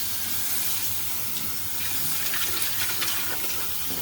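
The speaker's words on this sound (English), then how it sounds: "you're going to want to rinse that out" Water runs steadily from a tap, rinsing out the emptied dirty-water tank of a Yeedi Mop Station Pro robot mop dock, a continuous close splashing gush with no talking.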